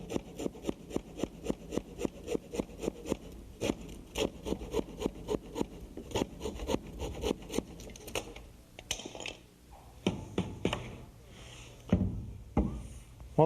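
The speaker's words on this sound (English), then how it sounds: "saw it off with a handsaw" A handsaw cuts through wooden door-jamb material during an interior door installation, with steady rhythmic back-and-forth strokes close by, then slowing into a few irregular final strokes and scrapes.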